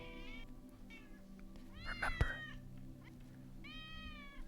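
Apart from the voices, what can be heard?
cat meowing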